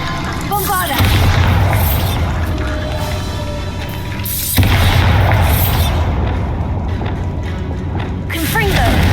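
A Bombarda explosion spell in Hogwarts Legacy, cast amid combat in catacombs against skeletal foes: a loud booming blast followed by a second heavy burst midway, with sustained rumbling game noise and a voice calling out over it.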